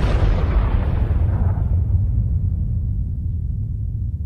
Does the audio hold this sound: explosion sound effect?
yes